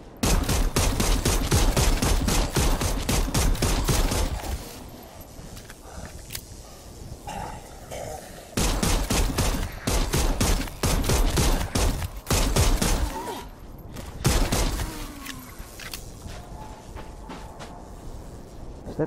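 Rapid bursts of pistol fire in Dead Island 2 come as fast, close, cracking shots in several clusters, separated by brief quieter gaps filled with a low game rumble.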